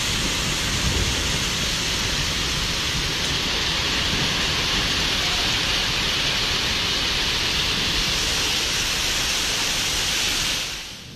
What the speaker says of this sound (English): This is hail in China, piling up so fast that the streets now resemble frozen rivers.